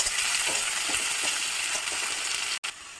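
Oil heating in a wok, with chicken fat added, gives a steady, even sizzle with faint light crackles and one brief cut-out near the end, close by and with no talk.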